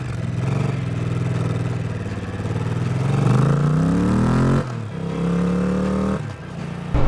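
Triumph Thruxton motorcycle engine in sport mode on Coryton Sustain sustainable fuel, a close steady drone that rises in pitch as it revs up, drops suddenly, then revs again in a second surge.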